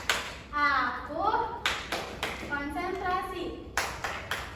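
A classroom of children and their teacher perform tepuk konsentrasi, a rhythmic concentration clapping chant, with bursts of clapping and taps trading off against sung voices at close range.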